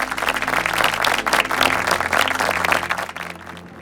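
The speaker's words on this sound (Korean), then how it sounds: "여러분 힘찬 박수 부탁드립니다" An audience at a Busan policy forum applauds a presenter, a steady dense wash of clapping from many hands filling the hall for a few seconds before it fades out.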